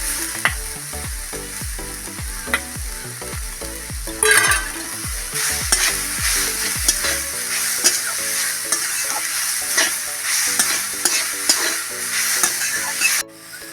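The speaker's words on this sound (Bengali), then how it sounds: "আমি দিয়ে দেবো আলুটা তেলের মধ্যে।" Potato pieces frying in hot oil, a sizzling hiss over repeated scraping stirs of a spatula in the pan that stop about halfway, leaving a steady loud fry alone with no talk.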